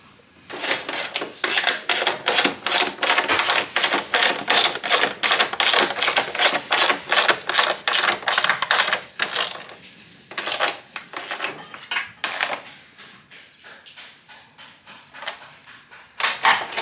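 Hand tools working over the suspension bolts of a Honda CR-X, with a dense run of quick ratcheting clicks that are loud and steady for about ten seconds, then sparser, quieter clicks and metallic handling toward the end.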